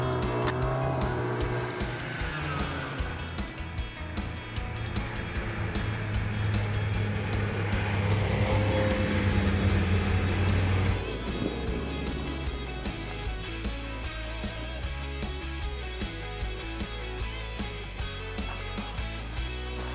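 A snowmobile engine drones steadily on a groomed winter trail in Wisconsin, its pitch shifting and rising at first, then settling into a lower, rougher hum midway.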